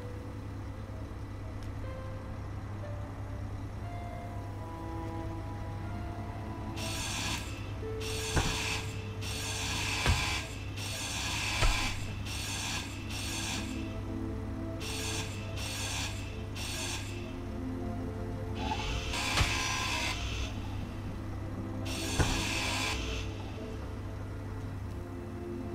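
A grinder cutting away blocks in the game Space Engineers, giving repeated raspy grinding bursts of a second or so each over a steady mechanical hum, with occasional sharp clicks.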